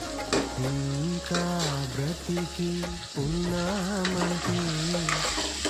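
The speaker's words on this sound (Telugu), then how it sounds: "అల్లం చిల్లిపాయ పేస్ట్తో పాటు ఎండు కొబ్బరి కూడా వేసాను కదా, బాగా వేయించండి" Ginger-chili paste fries with dried coconut for a donkey meat curry, a constant sizzle with stirring, partly covered by prominent tonal music playing over it.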